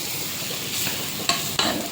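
Crushed shallots, ginger and garlic fry in a pan with a short, close, steady sizzle and two sharp crackles near the end, no voices.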